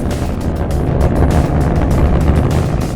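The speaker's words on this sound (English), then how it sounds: "And we have liftoff of the United Launch Alliance Atlas V rocket carrying the 12th GPS 2F satellite for the United States Air Force." A United Launch Alliance Atlas V rocket lifting off with a GPS IIF satellite for the US Air Force, a loud, continuous roaring rumble heavy in the low end, crackling and steady throughout.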